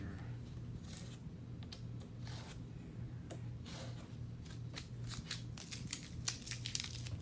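Excess material is trimmed off during the rebuild of a 1920 parlor, giving a run of crisp, close cutting and crunching snips that grow busier toward the end over a quiet background hum.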